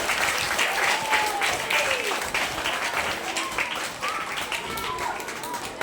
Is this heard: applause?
yes